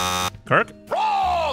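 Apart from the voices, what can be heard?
debate buzzer sound effect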